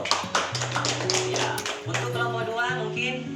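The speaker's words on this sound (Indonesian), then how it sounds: "tepuk tangan untuk Bapak" Applause for a discussion group at a community session: a run of quick, close claps mixed with voices talking and calling out over it.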